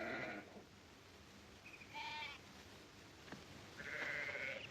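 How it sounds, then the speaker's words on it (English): Sheep bleat a few times at a distance over a soft, noisy background, with short wavering calls spaced apart. "Now, Drummond, get those sheep out now."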